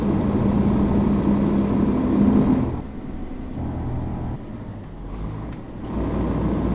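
A Mercedes-Benz Axor truck hauling a fuel tanker on a winding mountain road between Şırnak and Hakkari in Euro Truck Simulator, its diesel engine droning loudly and then easing off, with brief hisses of air release.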